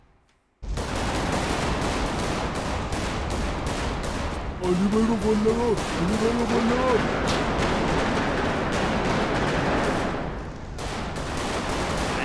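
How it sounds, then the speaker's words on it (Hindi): Gunfire in GTA 5 gameplay crackles in rapid bursts and sustained fusillades, loud and close, while voices talk and shout over it. "ये गोली चल गई"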